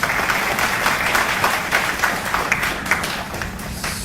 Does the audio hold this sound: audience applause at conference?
yes